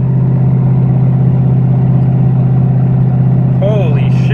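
A Ford Powerstroke diesel truck engine roars at full throttle with the pedal floored, a loud, constant low drone close by that holds steady, with a brief squeaky chirp near the end.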